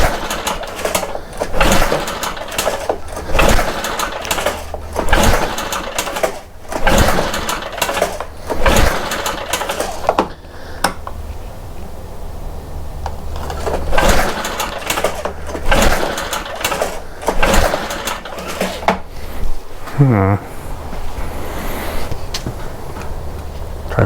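A BR800 backpack blower engine, low on compression and on choke at full throttle during carburetor adjustment, runs loudly and close up, its steady raspy drone surging and sagging in repeated bursts, with a brief rising whine near the end.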